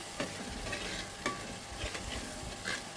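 Onions with turmeric and salt fry in oil in a new clay pot, giving a steady close sizzle broken by a few soft stirring scrapes.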